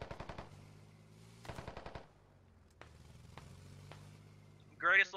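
Rapid automatic gunfire rings out in the military shooter game Squad Ops: two short bursts, then a few spaced single shots, heard at a moderate distance, with a brief voice at the end.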